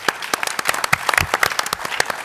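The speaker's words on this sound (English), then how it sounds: "you'll join us in a round of applause for our panel." Applause from a conference audience for a panel at a KDVA reunion and ROK-U.S. alliance peace conference, a brisk, crisp patter of individual claps from a modest crowd, close and lively, with no speech.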